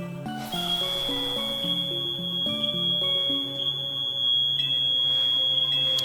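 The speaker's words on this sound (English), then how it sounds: "Okay, well that's the fire alarm." A fire alarm sounds as a steady high electronic tone running almost the whole time, loud over a bed of game music with stepping melodic notes; no one speaks.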